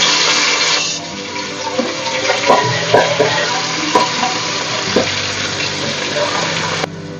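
Large prawns fry in hot oil in a pan, giving a loud, constant sizzle with a few clinks and stirring knocks, and the hiss drops away sharply near the end.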